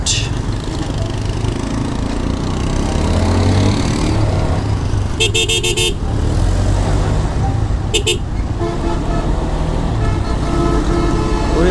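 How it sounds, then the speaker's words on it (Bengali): Roadway traffic in a morning jam near a possible railway crossing, with idling engines and several short car horn blasts, including a longer honk near the middle and another later, loud and close. "আল্লাহ পুরো রোড দেখি জ্যাম কেন ভাই রেল ক্রসিং হতে পারে"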